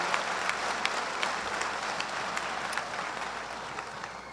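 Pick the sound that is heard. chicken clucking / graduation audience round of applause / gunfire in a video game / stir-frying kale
graduation audience round of applause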